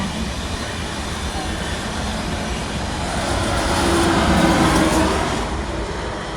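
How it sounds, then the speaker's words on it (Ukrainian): A Eurostar high-speed train passes through a railway station without stopping, a broad, loud rushing roar that swells toward the middle of the pass and then eases off, with no voices over it. "Це потяг, який, мабуть, поїхав на Голландію."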